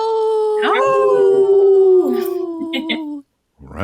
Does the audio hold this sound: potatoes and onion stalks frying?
no